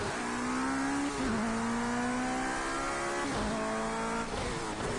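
RWD P20 LMP2 prototype race car in Project CARS 2, its engine droning loudly and steadily throughout with rising and falling revs, brief gear-shift dips and a close onboard perspective.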